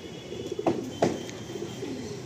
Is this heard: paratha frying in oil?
no